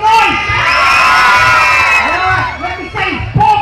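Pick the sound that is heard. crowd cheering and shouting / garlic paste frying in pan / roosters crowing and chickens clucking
crowd cheering and shouting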